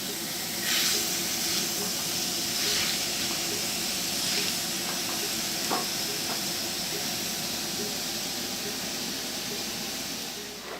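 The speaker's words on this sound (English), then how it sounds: "this has been preheated. Let's get this ground meat in here." Ground meat sizzles in a preheated skillet, a steady broadband hiss that holds through the whole stretch at moderate level, with a few faint clicks and taps on top.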